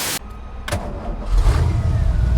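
A 1965 Factory Five Cobra engine cranks with a brief burst, catches and settles into a loud, close rumbling idle that swells slightly over a couple of seconds, with no talking.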